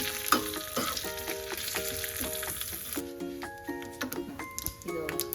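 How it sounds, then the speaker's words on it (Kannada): Radish chutney ingredients, including dried red chillies, sizzle and crackle steadily in a pan, frying close and loud throughout, with tonal background music running alongside. "ಸ್ವಲ್ಪ ಚೆನ್ನಾಗಿ ಫ್ರೈ ಮಾಡ್ಕೋಬೇಕು."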